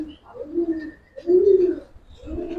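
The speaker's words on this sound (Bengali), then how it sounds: "এগুলো ইন্ডিয়ান কবুতর" Indian high-flyer pigeons coo close by in low, rolling repeated calls, three swelling coos in a few seconds with short pauses between them.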